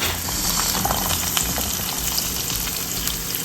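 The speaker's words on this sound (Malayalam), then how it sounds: "വേഗം വഴറ്റാം" Shallots sizzle in hot oil in a pan while being sautéed for a crab theeyal, giving a continuous, loud, crackling fry with small pops and occasional stirring, with no talk.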